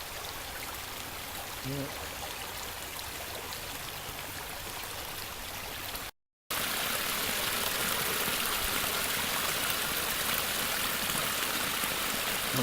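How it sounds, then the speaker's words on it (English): Overflow water pouring steadily out of a small pond on a rainy day, a continuous broadband rush that stays loud throughout, briefly cut off midway, with a short spoken word near the start. "This is the water coming out of the little pond. Just an overflow."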